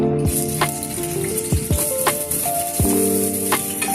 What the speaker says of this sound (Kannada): ಅಕ್ಕಿನ ಒಗ್ಗರಣೆ ಹಾಕ್ತೀವಿ.